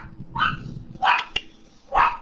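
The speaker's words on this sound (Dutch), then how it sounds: "misschien dat je hond zwijgt" A dog barks three times in quick succession, close and fairly loud, with short whiny yelps between the barks and no talk over it.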